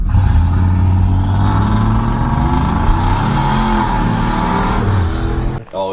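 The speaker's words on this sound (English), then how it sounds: "insert clip here of Drew racing my turbo truck before I owned it" A turbocharged pickup truck racing, its engine revving hard and loud close by, with pitch climbing and wavering through repeated pulls before dropping off abruptly at the end.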